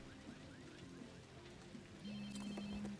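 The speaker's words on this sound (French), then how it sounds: "Donc là, c'est le téléphone." A telephone rings inside a video game, a steady electronic tone that starts partway through over faint ambient game noise and soft ticking.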